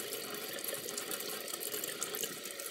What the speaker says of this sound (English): you just take your brushes, and you run them under water